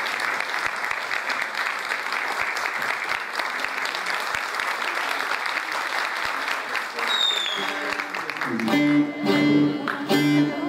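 An audience at a memorial evening for the folk poet Aşık Mahzuni Şerif gives sustained, dense applause for several seconds. A bağlama begins tuning and playing near the end.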